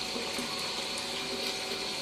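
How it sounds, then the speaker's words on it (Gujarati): Water pours steadily into a large, mostly empty household storage tank, a constant close rushing flow with a faint mechanical hum beneath and no speech. "જોઈ શકો છો કેવી રીતે ટાંકામાં પાણી જાય છે"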